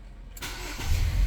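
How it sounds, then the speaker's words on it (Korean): A Hyundai YF Sonata LPI engine cranks from a push-button start and catches within about a second, then settles into a low, steady idle. "누르게 되면 시동이 걸립니다."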